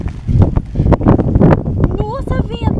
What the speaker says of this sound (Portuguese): Nossa, vento, para!